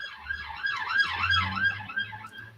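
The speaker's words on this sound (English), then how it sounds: "that was me with the ambulance" An ambulance siren wails in rising and falling sweeps, steady and moderately loud, over a low rumble of traffic, as if passing nearby outdoors. No one speaks.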